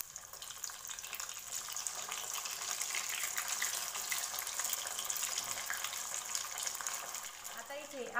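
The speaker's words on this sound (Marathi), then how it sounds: "तर आता आपण अशाच प्रकारे सर्व बट्ट्या तळून घेऊया" Battis, round wheat dough balls, deep-frying in oil over a medium flame. A continuous close bubbling sizzle keeps an even level throughout, and a faint voice may be murmuring underneath.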